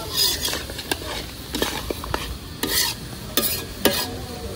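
Meat sautés in a hot pan with a bright sizzle, while a spatula scrapes and stirs in irregular bursts, loud and close, and no voices are heard.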